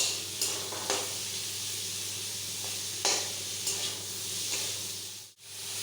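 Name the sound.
frying onions over high heat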